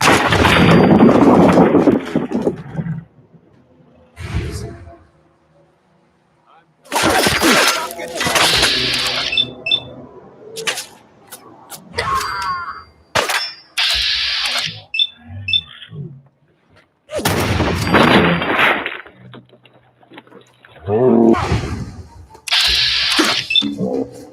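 Gunfire in Fallout 4 breaks out in several loud, close bursts of shots and impacts, separated by quieter gaps, with faint voices in the background.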